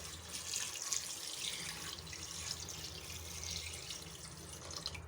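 About 1.5 litres of water runs steadily into a pot of beef trotters (paya), a continuous splashing, gurgling pour that stays close and fairly even throughout.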